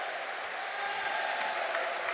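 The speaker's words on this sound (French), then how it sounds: "On applaudit quand même" Spectators at a wheelchair basketball club championship applaud a player coming into the game, a steady wash of clapping filling an indoor hall at moderate distance, fairly soft and continuous.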